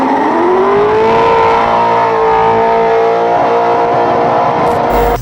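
A drift car's engine revs hard and loud, its pitch sweeping up and holding high in a sustained, close roar with no pauses, at a drift event with a Chevrolet Camaro nearby.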